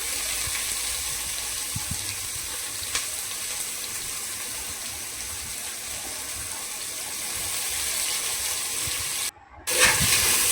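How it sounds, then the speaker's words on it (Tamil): Four medium-sized onions sizzle in a pan while being sautéed until golden for tomato rice, a steady loud frying hiss that runs throughout, briefly cutting out near the end before resuming. "நல்லா வெங்காயம் பொன்னிறமாக வதங்கணும், அது வரைக்கும் நல்லா வதக்கிக்கலாம்."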